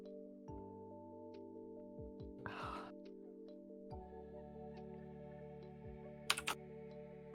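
Sparse keystroke clicks on a computer keyboard, soft and irregular, set against a steady humming drone with a few louder knocks near the end.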